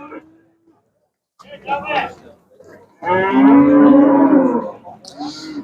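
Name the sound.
ox lowing at a livestock market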